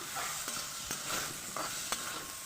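Potatoes stir-frying in a pan with ginger-garlic paste and chilli powder, a steady close sizzle broken by several sharp scrapes of a spatula at irregular intervals, no voices.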